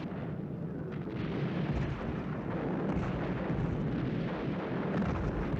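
A ferocious artillery barrage against German defenses in the Battle of Berlin, heard as a continuous rolling rumble of distant explosions and gunfire blending into a dense, steady roar.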